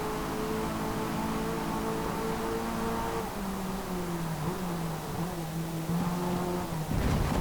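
A race car engine in Forza Motorsport, a rear-wheel-drive roadster, revs and accelerates with rising and falling tonal whine through gear changes, steady and loud with no talking.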